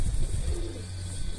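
A pigeon gives a short, soft coo against low background rumble.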